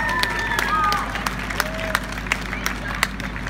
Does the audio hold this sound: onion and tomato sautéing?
no